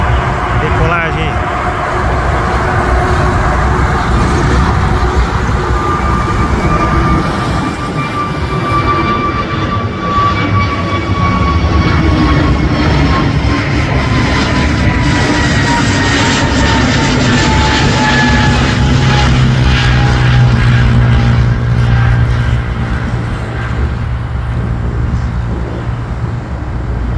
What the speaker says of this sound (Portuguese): Decolagem aí.